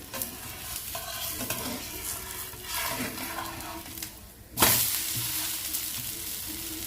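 An onion dosa cooks on an oiled pan, sizzling and scraping under a spatula, then a sudden louder burst of hissing sizzle as it is flipped over, continuing steadily afterward with no talking.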